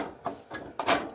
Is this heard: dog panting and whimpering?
no